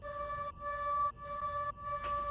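Raw, unprocessed vocal drone from a music production, a sustained layered tone holding steadily with brief dips and a bright burst near the end, playing alone.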